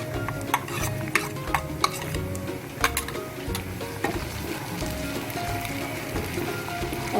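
Ginger garlic paste frying and being stirred in a pan for dhaba-style chicken keema, a steady sizzle with repeated scraping stir strokes and clicks throughout.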